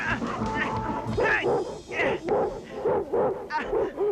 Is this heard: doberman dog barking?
yes